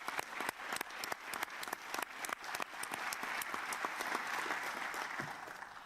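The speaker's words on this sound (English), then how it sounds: "I would really like to give them a round of applause." At the IAEA Symposium on International Safeguards 2018 final plenary, a few distinct claps quickly swell into a full, fairly distant round of audience applause that holds steady.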